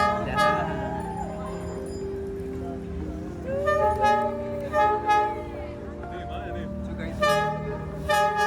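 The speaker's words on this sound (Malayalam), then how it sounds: "അടുത്ത ട്രെയിനിൻ്റെ വിസിൽ വന്നു" A locomotive on Hanoi's Train Street sounds its horn in a few sustained, tonal blasts, close and loud, with people talking around it.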